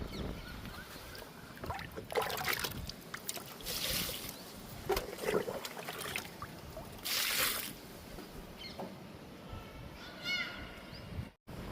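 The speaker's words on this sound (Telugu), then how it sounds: "జామ మొక్కకి వాటర్ ఇస్తున్నాను" Water is poured onto a guava plant in a home garden, making repeated splashing gushes and trickles close to the microphone, with outdoor background noise between the pours.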